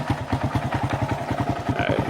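A refurbished Honda Monkey motorcycle idles nearby, its small engine and exhaust pipe putting out an even, rapid chugging pulse that stays steady throughout.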